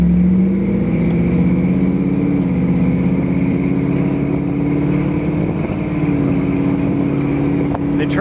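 A 1974 Ford Bronco with a freshly rebuilt, resealed transmission drives along, its engine droning loud and steady throughout with a low rumble that rises and eases slightly as it warms up and shifts smoothly.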